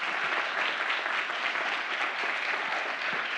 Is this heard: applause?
yes